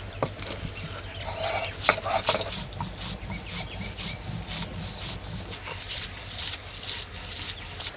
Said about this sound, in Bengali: আদা রসুন পেঁয়াজ একসঙ্গে বেটে নিচ্ছি